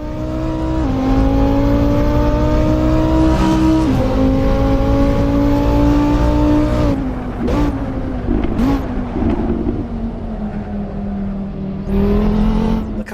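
A modded car's engine drones steadily through gear changes in Assetto Corsa, pitch climbing and dropping with each shift, loud and continuous, with brief gaps as it lifts off.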